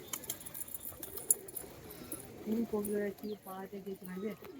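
Pigeons at a home loft in Kolkata cooing nearby: soft, throaty rolling coos in short bursts in the second half, with a faint voice and light background clatter earlier.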